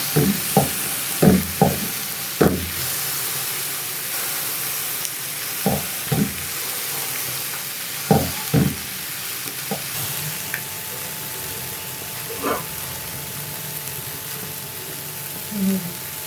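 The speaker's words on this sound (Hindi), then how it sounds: "अब 2 से 3 मिनट और इसको फ्राई करूँगी तो ये जो हमारी फ़िश है बिल्कुल रेडी हो जाएगी तवा फ़िश" Fish frying on a tawa griddle in shallow oil, a continuous sizzle with scattered knocks and scrapes of a utensil turning the pieces, loud and close, then quieter later on.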